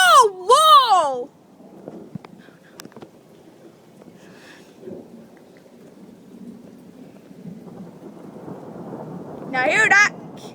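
Thunderstorm in Prince George in 2013: a loud, rumbling wash of rain and thunder that builds across the clip, with a voice near the start and again near the end shouting excitedly over the storm.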